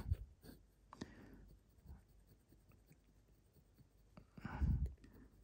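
Sunstar metacil metal-lead pencil scratching lightly across paper, a faint scattering of short strokes with a louder stroke near the end, close and quiet with no talking.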